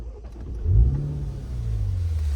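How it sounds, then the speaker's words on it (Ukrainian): A MINI Cooper Countryman engine cranks with a push-button start and catches, then settles into a steady low idle hum. "якою класною кнопкою заводиться цей автомобіль"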